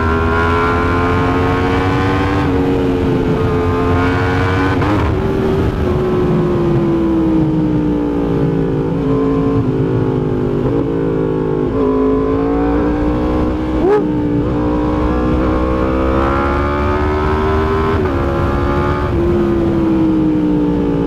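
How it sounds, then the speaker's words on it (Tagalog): A Yamaha MT10 motorcycle fitted with an SC Project exhaust and carbon wheels, heard on a ride as a loud, continuous engine drone that rises and falls in pitch with throttle changes, with no talking. "Yamaha MT10, tapos yung tunog ng SC Project,"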